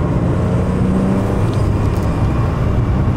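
A 1996 Porsche 993 Turbo tuned to 525 PS accelerates hard on a country road, a loud continuous engine roar and rushing road noise filling the interior steadily with no talk.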